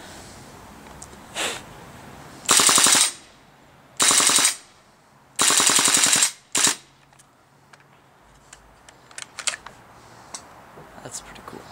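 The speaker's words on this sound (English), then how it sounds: "And I'll do a full auto." A WE Tech gas blowback airsoft SCAR-L, green gas version, fires on full auto in four loud, close bursts of rapid crackling shots separated by brief pauses, with quiet background between.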